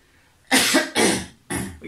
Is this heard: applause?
no